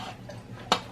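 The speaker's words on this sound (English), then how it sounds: "I'm going to add the cauliflower to the Instant Pot" Roasted cauliflower going into an Instant Pot, one clear clatter of pieces hitting the metal pot near the end over a quiet kitchen background.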